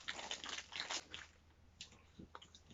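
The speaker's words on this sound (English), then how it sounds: "Crunchy and nice." Someone bites into a crunchy Jamaican peanut cake, giving a few close, crisp crunches and chewing sounds in a quiet room.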